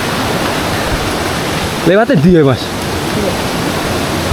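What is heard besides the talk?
mountain river headwaters flowing in rain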